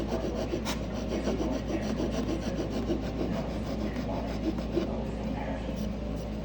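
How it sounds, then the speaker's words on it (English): A hand file rasps along the wooden mortice edge of a door jamb in continuous, close, fairly loud back-and-forth strokes, with no talking. "So let me get my file out."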